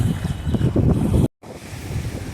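Floodwater from the swollen Cauvery thunders through the open sluice gates of the Amaravathi dam at Karur, a dense, continuous roar of rushing water mixed with wind buffeting, broken by a split-second dropout.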